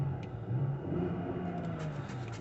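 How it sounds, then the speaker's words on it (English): A used car's engine idles just after start-up during a pre-purchase inspection, a low, even, fairly quiet hum with a faint mechanical whir, steady and close with no speech over it. "we're going to let it idle for a while, and then we're going to keep an eye on the temperature"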